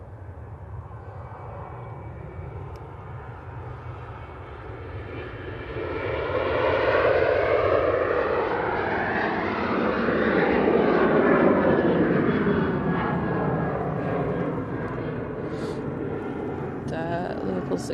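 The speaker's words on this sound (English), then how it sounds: "Ryanair on the roll." A Ryanair airliner on its takeoff roll at Manchester Airport, a distant jet roar that builds into a loud sweeping engine rumble with shifting tones, peaking midway and then easing off as it recedes.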